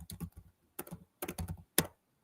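Close, crisp keystrokes on a computer keyboard, short bursts of quick taps separated by brief pauses as a name is typed.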